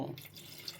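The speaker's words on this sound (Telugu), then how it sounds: "కొంచెం వాటర్ వేస్తున్నానండి" Water splashes into a pressure cooker holding mutton kheema curry in one short, close pour.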